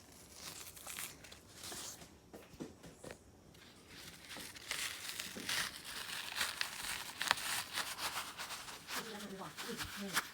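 Cheesecloth being peeled away from a sheet of wet homemade paper, giving a run of soft crinkling and tearing rustles that grow denser toward the end, with faint talk in the background.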